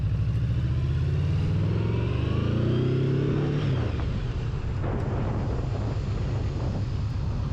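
2014 Yamaha VMAX motorcycle being ridden, its engine revving up and then dropping away as it decelerates, heard up close under heavy wind buffeting on the microphone.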